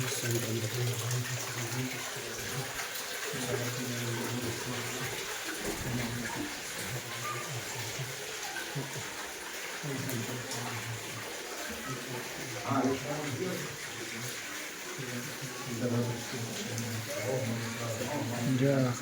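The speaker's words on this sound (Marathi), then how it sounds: "गोदावरी नदी प्रवाहित होत असताना" Water of the Godavari river flows steadily from its source spout at a kund, a continuous splashing gush heard close, with people talking over it throughout.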